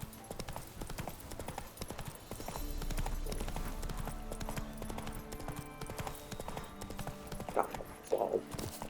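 Roach, the horse in The Witcher 3, clip-clopping at a steady walking rhythm, with hoofbeats close and clear throughout and a brief voice near the end.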